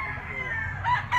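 A bull stag gamecock, about 18 months old, crows close by in a short, bright call that rises at the end, with a low rumble of background noise underneath.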